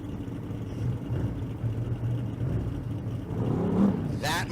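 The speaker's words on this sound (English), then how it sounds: "That, my friends, is a 69 Camaro." A 1969 Chevrolet Camaro street car at a drag race in Las Vegas gives off a low engine rumble, steady and moderately distant, under an announcer's voice and crowd noise.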